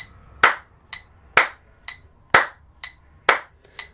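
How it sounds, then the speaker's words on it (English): Loud, close hand claps in a steady pulse on the offbeat second eighth note of a rhythm practice drill, each followed by a quieter, thinner tap that keeps the underlying beat. "Then you take only the second one."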